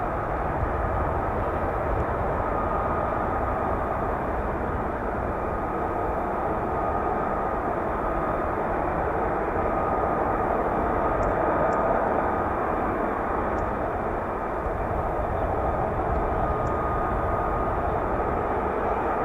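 An F-35B stealth fighter jet flies past with a loud, continuous broad jet roar that swells slightly near the middle and stays steady throughout.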